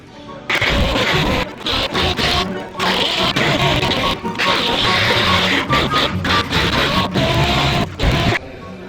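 A dual-action sander works 320-grit sandpaper over deep scratches on a 2020 Jeep Cherokee repair, a loud, steady rasping grind with brief pauses as the pad lifts and returns.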